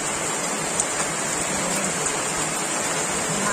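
Steady rain falls in a village, a dense, even hiss of drops on surfaces that holds for the whole stretch with no talk.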